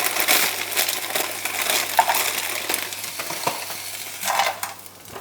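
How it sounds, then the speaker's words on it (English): Frozen vegetables tumble into a pan of tofu scramble, giving rattling clatters and scraping stirs over a faint sizzle, close and fairly loud, with no talking. "So I've just added some frozen vegetables to this"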